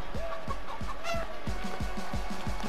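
Chicken clucking in Fall Guys repeats as a steady run of about eight quick, cartoonish clucks at an even rhythm, close and fairly loud over background game music.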